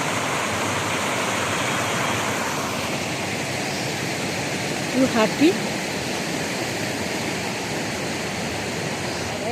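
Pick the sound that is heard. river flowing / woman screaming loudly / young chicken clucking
river flowing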